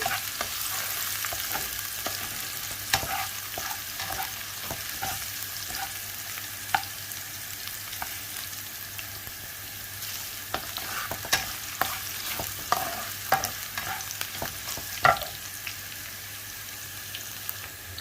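Ginger and garlic sizzle steadily in a pan over high heat, the hiss punctuated by scraping stirs and quick clicks of a utensil in the pan.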